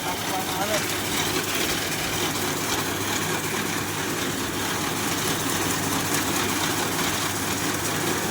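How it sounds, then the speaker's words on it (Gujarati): A John Deere tractor driving a fodder chaff cutter in a cattle shed yard, a loud continuous engine drone with a busy mechanical rattle and chopping texture, steady throughout as someone talks over it. "ખડ કાપવાનું હાલે."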